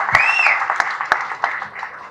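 Applause from an event audience at a grand production launch, a broad steady wash of clapping with a few sharper claps standing out, continuing for the whole stretch at moderate level.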